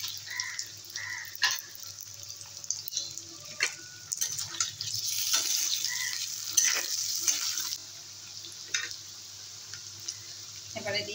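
Whole cumin, chopped onion and boiled potatoes frying in oil in a pan, a steady soft sizzle with scattered scrapes and stirring clicks, close and quiet, with a voice talking over it.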